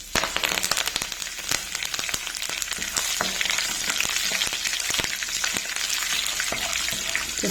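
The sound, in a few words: curry leaves sizzling in hot oil in a pan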